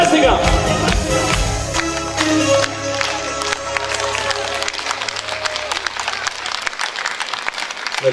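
An audience at a formal Teacher's Day ceremony claps steadily, a dense wash of applause that gradually thins toward the end, with music fading out beneath it.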